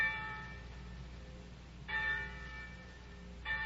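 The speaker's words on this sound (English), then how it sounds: "every day the winds carried you the clanging of the church bells" Church bells clang in a village, sounding as a radio drama effect: repeated ringing strokes recur every couple of seconds over a soft steady background, moderately distant.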